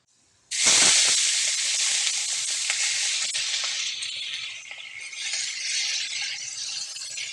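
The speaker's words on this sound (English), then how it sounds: "first you want to put some olive oil into the pan before you put the peppers in. Let that simmer for a minute." Red peppers hit hot olive oil in a pan, bursting into a loud close hiss and sizzle that stays strong, then settles slightly into a steady crackling fry, without talk.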